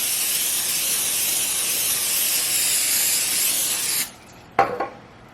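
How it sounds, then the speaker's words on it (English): Butter spray hisses from a can onto a tray of 18 dinner rolls in one long close spray, then stops, followed by two quick short bursts. "First thing I always like to do is spray the rolls with the butter spray."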